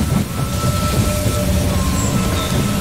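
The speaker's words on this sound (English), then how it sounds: "The train has arrived at the station." Loud, close rumble of a train pulling into a station in the strategy game They Are Billions, a dense continuous roar with rattling wheels and faint squealing tones, no voices.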